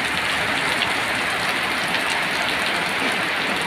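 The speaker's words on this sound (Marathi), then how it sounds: "पाणी पडायला लागलंय गोवरी कॅमेऱ्यावरी, मस्त वाटलं, पाऊस आलेलं छान वाटलं" Steady rain falls outdoors, a dense, even hiss of drops on surfaces, loud and close throughout with no voices.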